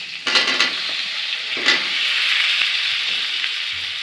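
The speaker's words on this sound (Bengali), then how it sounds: "এখন এই আলুটা একটু ভাজি করবো" Potatoes frying in a pan of oil during home cooking of datina fish, a steady bright sizzle throughout with a few louder spatter bursts, close and continuous, no talking.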